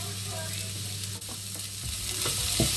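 Finely chopped onion fries in hot oil in a pan, giving a steady, close sizzle with a few soft stirring knocks and no voices.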